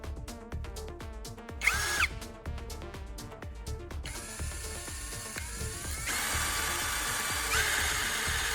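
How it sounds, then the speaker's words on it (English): A power drill bores a hole through the lid of a canned meat can, with rapid whirring bursts and clicking, then a sustained higher-pitched grinding whine near the mic, interrupted by brief pauses. "I'll drill a hole in the can's lid to secure the lid to the spark plug."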